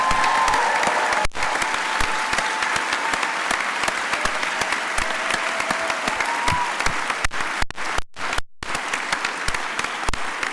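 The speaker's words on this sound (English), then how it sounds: "Let's give them a round of applause." A commencement audience at a medical college graduation claps steadily and loudly for several seconds, a dense sustained patter of many hands with a few brief dropouts near the end.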